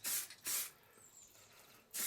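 Aerosol spray paint hisses onto the chimney of a model Stuart steam boiler in three short, close bursts separated by quiet pauses.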